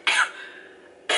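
A person with a cold coughs sharply twice, the first cough longer with a raspy tail, the second cut short, close and loud with no talk.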